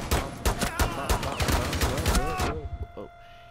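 Rapid bursts of automatic gunfire in Rainbow Six Siege, loud and dense for a couple of seconds, then tapering into a few scattered shots and quieter game ambience.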